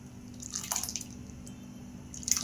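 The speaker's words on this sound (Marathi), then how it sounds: "आता आपण पळीने हलवून बघू" Wet, liquid sloshing and soft drips as a ladle stirs a thin bottle gourd sambar, with a low steady hum underneath and no voices.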